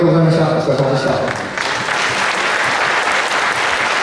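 Audience applauding after a taiko drum competition, a loud, dense patter of clapping that fills the hall, with a few voices mixed in at the start.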